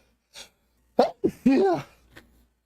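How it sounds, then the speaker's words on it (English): A person sneezes, a small breathy catch followed by two sharp bursts and a louder drawn-out voiced sneeze, close and alone, with a faint exhale trailing after. "Alright, sorry, I gotta sneeze."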